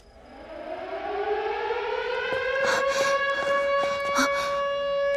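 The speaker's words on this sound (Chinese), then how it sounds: "警报！" An air-raid style alarm siren wailing at night in a 1930s–40s Shanghai setting, rising in pitch and loudness as it winds up, then holding a steady howl, with scattered footsteps and clatter underneath.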